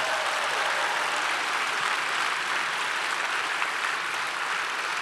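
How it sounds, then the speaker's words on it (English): Audience applause fills a comic convention panel hall at Awesome Con 2021, a dense, steady wash of clapping from a large crowd that holds loud and even for about five seconds with no talking over it. "Can we have a round of applause for everyone in costume today?"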